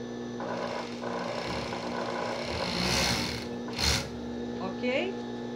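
Sewing machine stitching a fabric bra cup: a steady mechanical whir running continuously at close range, with a brief louder clatter near the end and a short vocal sound over it.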